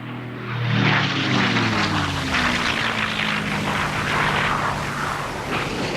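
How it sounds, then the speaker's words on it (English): Low-flying US propeller torpedo bombers pass overhead, a loud droning engine roar that swells early and stays steady, with a falling pitch as they go by. "they came under attack from low-flying US torpedo bombers"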